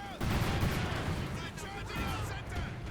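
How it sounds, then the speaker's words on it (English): Cluster bombs strike in Company of Heroes 2, a dense run of rapid overlapping blasts and crackling detonations, loud and continuous throughout, with a voice talking over the barrage. "it's actually the cluster bombs"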